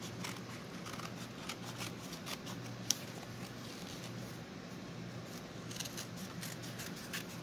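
Scissors snipping fabric for a framing project, quiet close repeated cuts with soft rustling in between.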